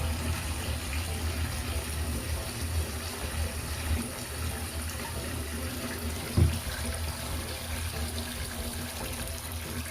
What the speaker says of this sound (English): I'll just turn on the taps, get the water going